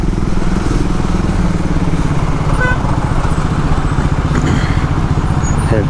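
A Scrambler 400 motorcycle rides through city traffic, its engine a steady, loud, continuous drone close by throughout, with faint wind and road noise and no clear speech.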